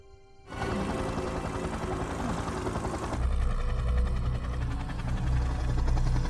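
A steady, loud mechanical drone with a low rumble that grows heavier partway through, like a helicopter engine and rotor running nearby.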